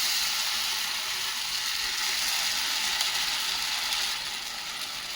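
Poha uttapam batter poured onto a hot, oiled pan sizzles with a bright, even hiss that holds steady throughout and eases slightly near the end, with no talking.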